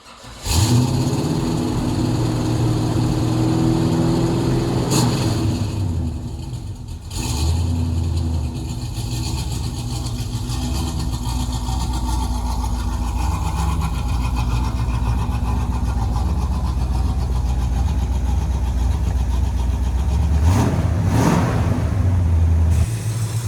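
An old car engine, left sitting unused for ten years, idles steadily and loudly at close range, a continuous low rumble with a couple of brief mechanical clunks.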